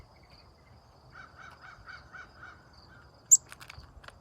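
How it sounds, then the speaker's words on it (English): Crows cawing outdoors where chickadees are being hand-fed, a run of rhythmic distant caws, faint and evenly spaced, followed by a brief louder nearby bird chirp and a few soft clicks. "I hear the crows."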